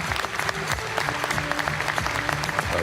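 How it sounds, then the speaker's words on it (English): Audience applauding, a dense, steady patter of many hands clapping with faint voices mixed in underneath. "everybody's applauding him, and he's thanking them"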